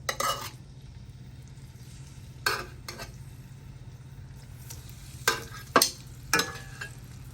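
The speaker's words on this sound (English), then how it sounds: "I'm going to pick it up and face the skin side down into our hot olive oil." Chicken pieces laid skin side down in hot olive oil for chicken cacciatore, a low steady sizzle broken by several sharp scrapes and clinks of a utensil against the pan, close up, no talking.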